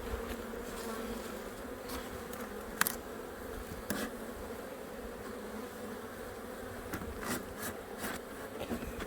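Honeybees buzz around an open hive during an inspection, a continuous close drone with sharp passing buzzes as individual bees fly near.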